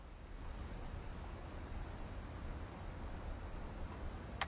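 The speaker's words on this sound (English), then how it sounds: "40-foot waves off the coast of Washington send the house and Odin to the bottom of the sea." Ocean waves in the video game What Remains of Edith Finch, a dense, steady roar of surf and wind with no distinct breaks, rumbling low and constant throughout.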